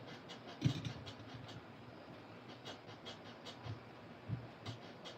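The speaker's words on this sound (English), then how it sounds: "What you hear is my 3D printer is printing" A 3D printer running in a workshop, quiet mechanical whirring with soft rhythmic clicks and occasional louder knocks, faint and continuous with no talking.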